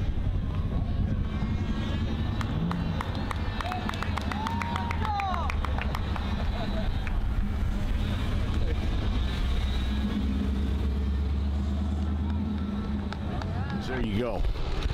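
A 1961 Jeep Forward Control hot rod with a C4 LS engine at a Goodguys Indy show, its engine a steady low rumble throughout, with crowd chatter and distant event noise around it.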